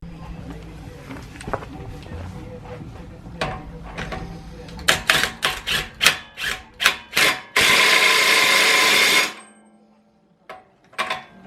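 An axle hub bolt on an S15 is tightened with a long power bar: a run of metallic ratcheting clicks builds into several sharp, evenly spaced clacks, then a loud sustained burst of mechanical noise, and a few faint knocks after a pause.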